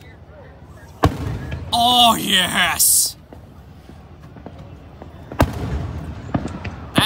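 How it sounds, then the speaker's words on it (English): Princeton Fireworks Show bursts on the Fourth of July: two sharp, loud booms several seconds apart with crackling tails, and excited voices talking and shouting between them. "the Princeton Fireworks Show has begun!"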